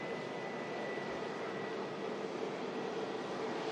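A Swedish-registered Boeing 787 Dreamliner taxis at Manchester Airport during a storm, giving a steady, dense engine rush that holds at one level throughout, mixed with a broad wash of wind noise.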